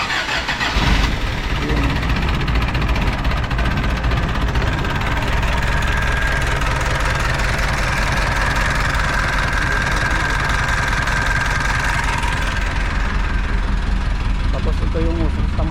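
A repaired engine with new valves, valve rings and valve guides cranks and catches, then settles into a loud, steady idle with a knocking mechanical clatter while voices talk nearby.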